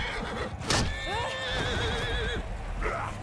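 A horse in the video game Bannerlord gives a loud, wavering whinny, with hoofbeats clip-clopping beneath it and game sounds in the background.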